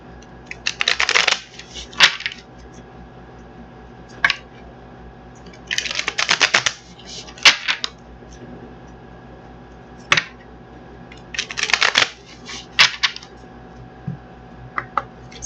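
A deck of tarot cards is shuffled in quick riffling bursts, several separate shuffles with pauses between, close and fairly crisp with no talk.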